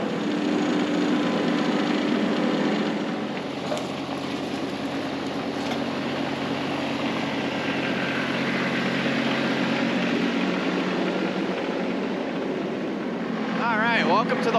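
A tractor engine drones steadily while driving to a pasture for mowing, a loud continuous rumble that barely changes for the whole stretch.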